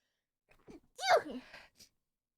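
A person gives a single sharp sneeze after a brief intake of breath, close and clear, in an otherwise quiet space.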